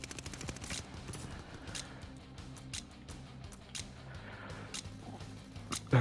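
A Browning automatic rifle firing in Call of Duty: Vanguard, with bursts of gunshots at a slow rate of fire spread across the clip, set against a steady game soundtrack and ambience.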